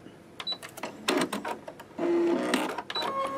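A sewing machine stitches quilt fabric in short bursts of whirring needle motion, stopping and starting a few times at close range with no talking.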